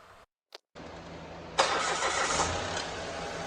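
A Mitsubishi Mirage engine cranks briefly, then catches and starts, settling into a steady running idle close by.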